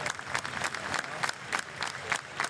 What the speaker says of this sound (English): You can hear the clapping.